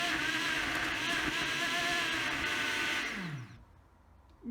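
Countertop blender churning partly frozen ingredients with a loud, steady whirring grind that winds down and cuts out near the end, leaving quiet.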